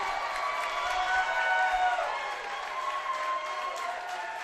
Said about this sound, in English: Saints crowd riled up.